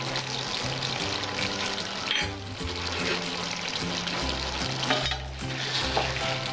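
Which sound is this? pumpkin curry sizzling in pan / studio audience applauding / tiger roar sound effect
pumpkin curry sizzling in pan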